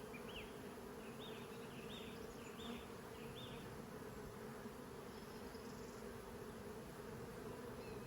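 Honey bees swarm at the front of a hive in the evening, just transferred from a nuc, giving a steady, dense buzzing drone that holds evenly throughout with no voices.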